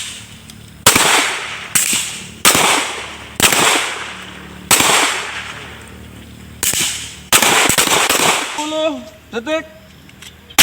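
Sharp rifle shots ring out one at a time at a navy firing practice by sailors of the warship KRI Karotang-872, each loud crack trailing off into echo, with a voice speaking briefly near the end.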